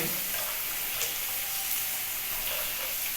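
Onions frying in oil in a pan for spiced dal, a steady close sizzle with faint crackles throughout and no talk.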